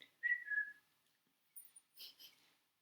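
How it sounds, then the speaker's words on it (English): A short whistled tune of two sustained notes, then a brief pause and a few softer breathy sounds. "Oh, we've got to whistle."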